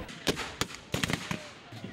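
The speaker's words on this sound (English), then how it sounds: "Even the horses jumped at the sound of the cannon." Howitzer cannons fire at a Civil War reenactment: several sharp, irregularly spaced blasts, moderately loud and some distance off, with voices faintly audible in between.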